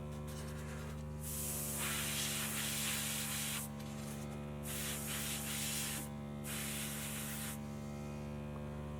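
An airbrush sprays paint onto fishing popper heads in three long, close hissing bursts separated by short pauses, over a steady low electrical hum from the compressor.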